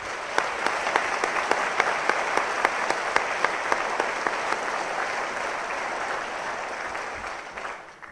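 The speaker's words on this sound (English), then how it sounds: "I ask that we give all of these instructors and staff a round of applause to thank them for a job well done." An audience applauds academy instructors and staff at a police academy graduation ceremony, with dense, sustained clapping that fills the room at an even level before tapering off near the end.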